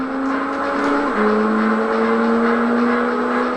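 A car engine in a racing video game revs with a steady rising whine and drops in pitch once partway through, like a gear shift, loud and continuous with no talking.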